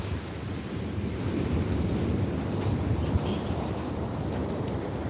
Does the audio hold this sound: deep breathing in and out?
no